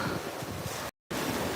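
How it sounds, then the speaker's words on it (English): Ocean waves roll in to shore as a steady, loud wash of surf mixed with wind buffeting the microphone, broken by a brief dropout of silence. "You can kind of see the waves coming in."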